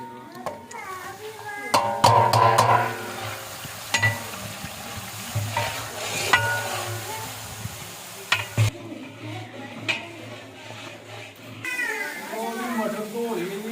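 Green spices and chilies hiss as they drop into browned onions frying in a pot, a crackling sizzle with stirring clatter, heard under someone talking and children's voices in the background.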